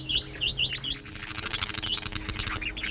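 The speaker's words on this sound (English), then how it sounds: "A mallee ringneck parrot." A mallee ringneck parrot at a waterhole in a South Australian wildlife reserve gives a series of sharp, rising chirps in quick repeated bursts, close and clear over a soft background.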